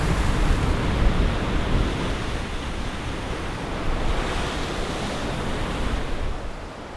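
Sea waves crash steadily against steep coastal cliffs beside an island construction site, a continuous broadband roar of surf with gentle surges and some wind rumble, with no voices.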